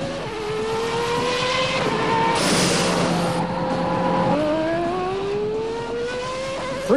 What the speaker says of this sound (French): La McLaren accélère jusqu'à 340 km/h